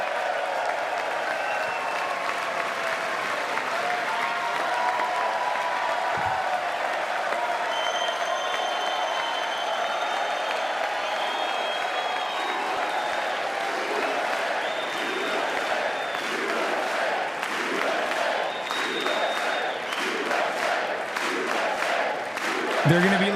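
Sustained applause from a large audience at the State of the Union address, greeting the men's gold medal Olympic hockey team, a steady dense roar of clapping with crowd noise throughout.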